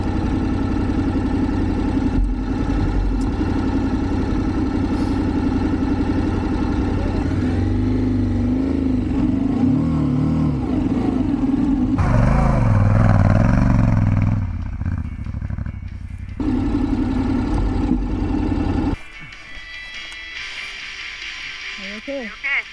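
A motorcycle engine revs hard as the rear wheel spins out, a loud close roar that rises and falls before dropping toward idle, with voices talking over it.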